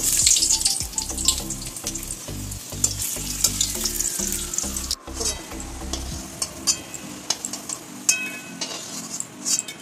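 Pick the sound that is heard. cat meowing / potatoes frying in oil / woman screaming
potatoes frying in oil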